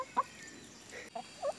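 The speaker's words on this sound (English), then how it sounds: "You're such a pretty chicken." A hen on a small backyard homestead lets out a few short, soft clucks spaced apart, fairly faint and close, with no talking.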